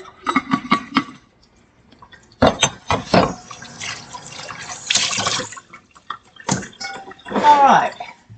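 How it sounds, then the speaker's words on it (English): Liquid is drained from a can of green olives, with splashing and trickling in several short bursts mixed with clinks of the can and some talking. "I got a few green olives here. Drain those."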